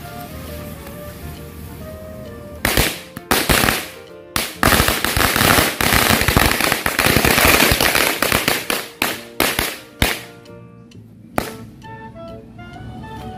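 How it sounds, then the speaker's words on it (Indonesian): Two packs of mercon korek firecrackers set off outdoors, bursting in a loud rapid crackling volley of dense sharp bangs that thins into scattered single pops before ending, with no talk. "Yang pertama kita nyalain 2 gepok mercon korek nih teman-teman."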